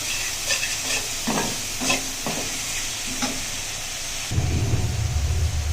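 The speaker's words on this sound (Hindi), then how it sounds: "तमाम मसाले ऐड करके हम 2-3 मिनट तक इसको भूनेंगे" Spices and turmeric powder for Punjabi chana dal with lauki fry in a pan, a steady sizzle broken by several scraping stirs, with the frying swelling louder and rougher in the final second.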